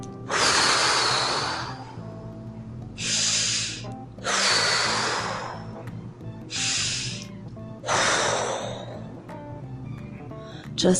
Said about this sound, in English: Take deep breaths, cleansing breaths